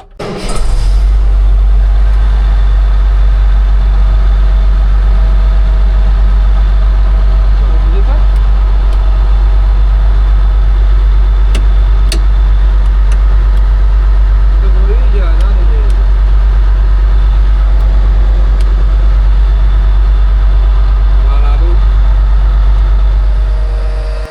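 A Case IH Magnum 310 tractor, just repaired, fires up and settles into a loud, steady diesel idle with a deep low rumble that holds throughout, with people talking faintly over it.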